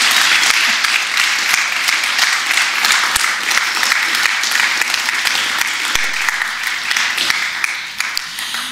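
Steady, full applause from an audience honoring women at a celebration marking 100 years of women's suffrage, dense clapping sustained throughout at close range.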